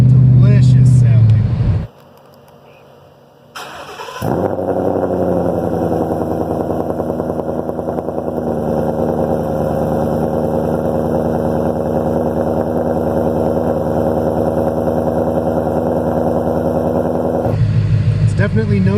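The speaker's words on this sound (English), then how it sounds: "That MBRP Race Catback really sounds good." A 2016 Mustang GT with Kooks longtube headers, an H-pipe and an MBRP Race catback exhaust idles loud and steady for most of the clip, a deep, even rumble close by, with a voice talking before and after it.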